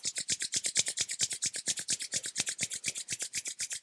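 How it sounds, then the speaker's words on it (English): Palms rubbed briskly back and forth in a steady, fast rhythm of about eight strokes per second, a close dry rasping swish during a yoga nidra relaxation, alone with no talk. "let's just rub here the hands together, generating heat and energy in between the hands"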